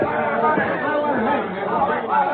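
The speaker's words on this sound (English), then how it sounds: "Sounds like a riot." A noisy crowd of many voices shouting and talking over one another at once, dense and unruly, like a rowdy riot inside a mess tent.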